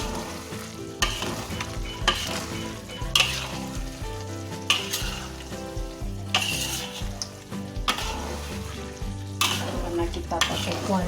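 A spatula stirs beef rendang with peanuts and jengkol around a wok in repeated scraping strokes, each pass rasping against the metal over a continuous low sizzle, close and fairly loud.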